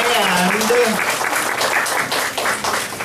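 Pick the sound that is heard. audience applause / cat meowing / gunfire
audience applause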